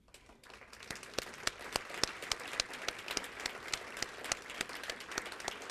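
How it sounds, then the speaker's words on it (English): Scattered applause for volunteers at an annual award breakfast, with a small number of people producing distinct, individually audible claps in a loose rhythm, fairly quiet and alone without talk. "give them a round of applause"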